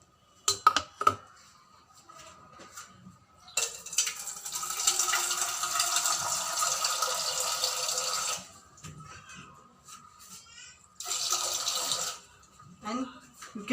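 Clanks of a metal idli steamer vessel, then a long rush of running water filling it, a pause, and another shorter pour, close by with faint talk between.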